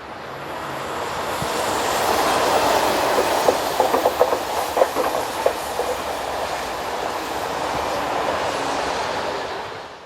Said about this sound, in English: A few minutes later we see TGV set number 48 on the 1645 Paris to Annecy.